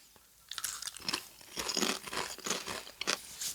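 Salty snack chips crunch loudly and close up, several crisp bites followed by steady chewing.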